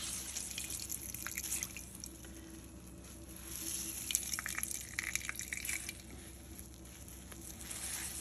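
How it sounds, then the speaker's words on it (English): Water drips faintly and steadily from grated zucchini being strained for fritters, a quiet scatter of small drops over a low background hiss. "make sure you strain all of the water"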